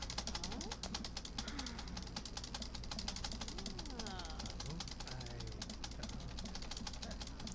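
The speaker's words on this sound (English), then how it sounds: "That's the sound of me just clicking away. Just clicking my spacebar away." A computer keyboard spacebar is clicked rapidly and continuously, loud and close, in an even clattering rhythm while a person talks over it.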